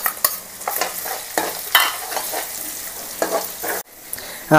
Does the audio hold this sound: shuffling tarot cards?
no